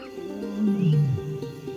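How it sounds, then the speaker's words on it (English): A male lion gives a deep early-morning roar at dawn in African big cat country, one long low bellow swelling and falling over about a second amid a steady outdoor hum. "Thor's early morning roar wakes Sam"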